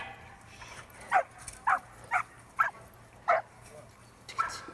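A border collie barks in short, sharp yelps, about six spaced barks at moderate distance over a quiet background.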